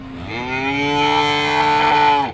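At a cattle market in Karimangalam, a young calf lets out a single loud, drawn-out moo, close by and clear, lasting about two seconds.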